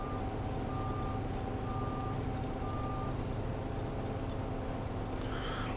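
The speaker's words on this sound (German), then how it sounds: "Wie unser Dreschkasten hier so durch die Gegend fährt, ne?" A combine harvester drives through the fields in Farming Simulator 19, a steady loud engine drone with a constant low rumble and intermittent high reversing-style beeps, running alone without talk.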